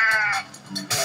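Goats in Goat Simulator give short nasal bleats, several quick wavering cries packed into about a second, loud and close with a brief noisy burst at the end.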